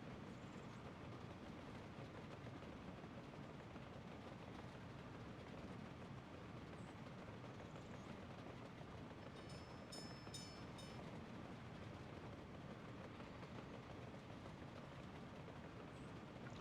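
Steady train ride rumble from Workers & Resources, a continuous low rail roll across open countryside with a faint high whistle-like tone near the middle, no talking.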